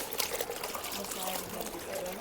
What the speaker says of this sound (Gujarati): આને આપણે પાણીમાં એક વખત ડીપ કરશું.